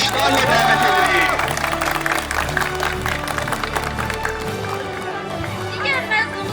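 A crowd applauds to welcome a graduate at a school graduation ceremony, with continuous clapping and cheering beneath music and a loud announcer's voice.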